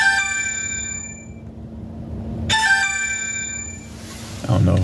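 A phone ringtone plays in two bursts of bright repeating tones with a short gap between, fairly clear over a quiet room, and a voice comes in briefly at the end.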